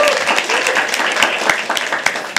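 Applause from an audience at a live poetry open mic: a dense patter of clapping hands with sharper individual claps poking through, close and fairly loud, briefly filling the room.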